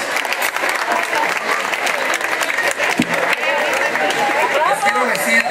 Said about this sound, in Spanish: El aplauso para los chiles, son tan amables